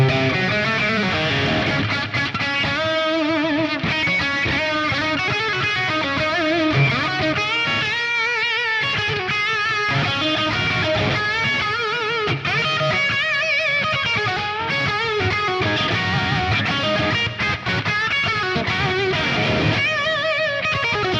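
Distorted electric guitar playing a solo, dry without delay or reverb, a continuous fast lead line with bends and runs, loud and alone.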